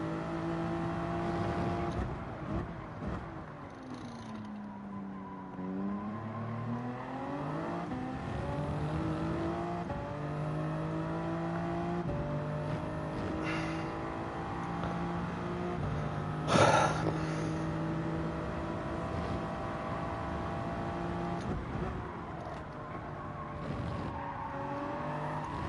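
Race cars in Gran Turismo 7 at Suzuka, Japan, during a Manufacturers Cup round, engines whining and shifting pitch with rising and falling revs, a brief tire squeal, steady and close.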